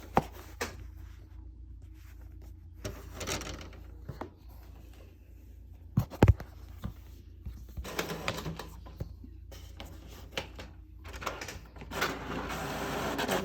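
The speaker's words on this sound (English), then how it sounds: "I'm just gonna click print" An inkjet-style printer feeding and printing waterslide decal paper, with soft mechanical whirring, clicks and carriage sliding passes that come in bursts and build louder toward the end, fairly quiet overall.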